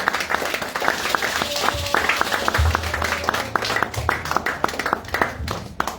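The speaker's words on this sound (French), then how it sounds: "Est-ce qu'on peut acclamer pour l'entrée des papas?" A church congregation applauds the entrance of the fathers with steady, dense clapping throughout, while a low musical tone and organ-like notes play underneath.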